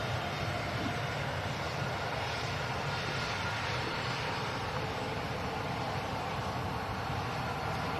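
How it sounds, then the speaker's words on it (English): EasyJet airliner departing Manchester Airport, a broad, steady engine roar with rumbling low end that holds at constant loudness throughout, with no voices. "And that's the EasyJet departing out to Grenoble"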